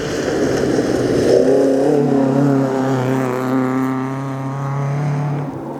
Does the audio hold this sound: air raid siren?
no